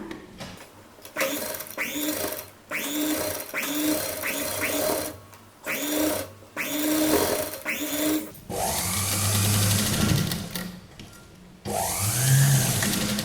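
A sewing machine stitches a kurti neckline in short, start-stop bursts of motor whir, each broken by brief pauses, with a longer steady run near the end, close and clear.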